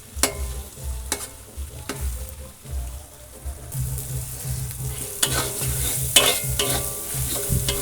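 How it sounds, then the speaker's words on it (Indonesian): Egg stirred with seasoning in a hot pan for Padang-style fried rice: a steady close sizzle broken by repeated sharp spatula scrapes and knocks against the metal. "Kita aduk telur ini sampai matang ya sama bumbu ini."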